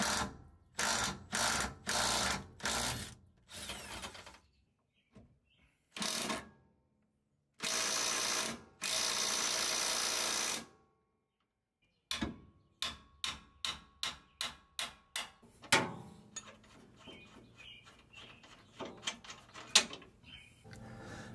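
On a first-gen Toyota Tacoma, the 19mm lower rear leaf spring shackle hardware is being removed, with repeated bursts of a power impact wrench whirring, pauses, and then a run of quick metallic ratchet clicks, close and alone.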